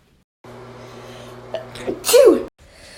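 A single close, loud sneeze bursts out near the end after a quiet stretch with a faint steady background hum, then cuts off abruptly.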